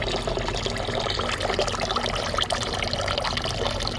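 Coolant drains from a Yamaha R1 motorcycle in a steady, loud pour of liquid, a continuous close splashing trickle with no pauses and no talk over it.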